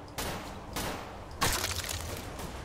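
Distant gunfire crackles across the Zone in S.T.A.L.K.E.R. Misery, with three separate bursts of shots that are faint and far off over a quiet, hissing background.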